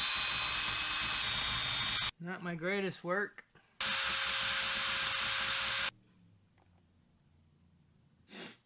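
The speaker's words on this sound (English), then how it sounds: "For my next trick, we are gonna try to drill this out." Two loud bursts of a power drill whirring while drilling out a part on a Mazda Miata NB, a couple of seconds each, separated by someone speaking briefly; quiet room noise follows.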